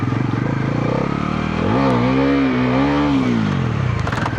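A Pulsar 400 set up as a freestyle stunt motorcycle idles with a throaty, pulsing rumble, then is revved in one sustained rising and held throttle blip before dropping back to idle, loud and close with no talk.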